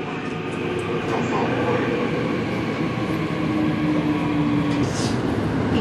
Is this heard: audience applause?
no